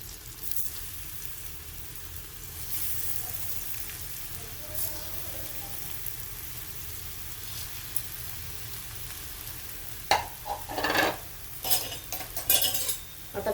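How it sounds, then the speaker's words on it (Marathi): Potato slices fry in about two spoons of oil over low heat, giving a soft, steady sizzle, with a few louder metallic scrapes of a utensil near the end. "आता कमी गॅसवरच मी फ्राय करून घेते खालचा अंग"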